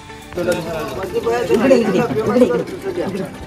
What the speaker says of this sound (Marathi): तुम्ही बघू शकता पब्लिक किती आलेली आहे, खूप जण आलेले आहेत